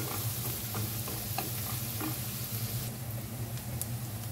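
Food sautéing in a pan until it browns, a steady close sizzle with soft stirring scrapes and faint clinks, no voices.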